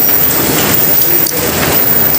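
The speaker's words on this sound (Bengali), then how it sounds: "তার রহমতের বৃষ্টি দিয়ে মানুষদেরকে শীতল করে দিলেন" Heavy rain pours down in a dense, steady roar, loud and close, with no break and no voices, in Kutubpur, Sonargaon, Narayanganj, Bangladesh.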